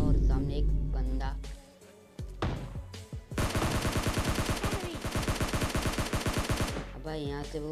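Gunfire in the video game PUBG Lite: a long, loud automatic burst of evenly spaced shots in the middle, with a few scattered shots before it and someone talking around them.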